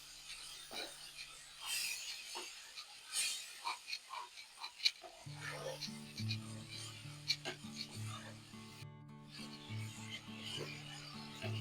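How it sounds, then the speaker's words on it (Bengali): Lote fish masala is sautéed in a pan with splashes of water, heard as quiet, irregular scraping and rubbing strokes, with soft tonal music coming in partway through. "একটু জলের ছিটে দিয়ে দিয়ে কষিয়ে নেবেন"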